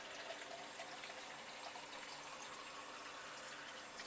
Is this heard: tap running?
yes